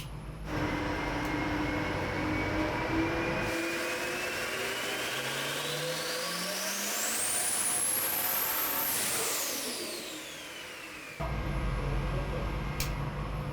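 A compound turbo Duramax diesel engine pulls hard on a dyno. A loud, sustained roar carries a rising turbo whistle that climbs to a piercing peak, then falls away as the engine drops back to a steady drone.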